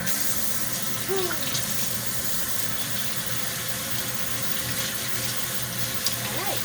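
Water runs steadily from a tap into a sink, a constant hissing splash close by, with faint background noises.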